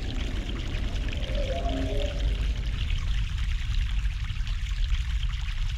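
Water pours and trickles steadily from a makeshift pipe in The Longest Journey adventure game, a continuous close flowing wash with no voices.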